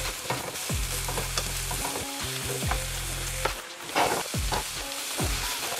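Mushrooms sizzle in a hot pan while a spatula stirs and scrapes them, a steady frying hiss broken by repeated clattering scrapes and knocks against the metal.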